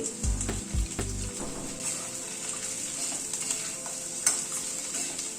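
Carrots and beans stir-fried with spices in a hot pan, sizzling steadily and close by, with a few heavier scraping stirs near the start and a quick clink later on.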